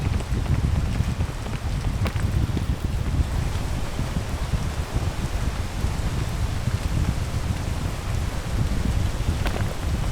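Steady, dense rain in the video game PEAK pours continuously, a broad hiss with low rumbling underneath, loud and unbroken throughout with no voices.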